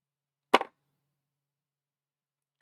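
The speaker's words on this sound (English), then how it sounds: "So if you take your scissors and maybe trim a little of that" Scissors trim a paper card while a handmade card is being assembled: one crisp, close snip, then near silence with a faint tick at the end.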